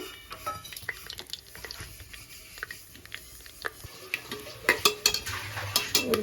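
Cinnamon, cloves, kasuri methi and star anise fry in hot oil over a high flame for avarekalu pulao, a soft crackling sizzle broken by sharp clinks and scrapes of stirring that grow busier toward the end.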